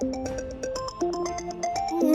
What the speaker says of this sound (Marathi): दाजींचा फोन तर आतमध्येच वाजतोय.